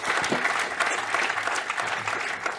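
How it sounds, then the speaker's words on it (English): An audience at an inclusive infrastructure event applauds a panel, a full sustained round of clapping from many people that stays loud and even from start to finish. "but a big round of applause for this panel."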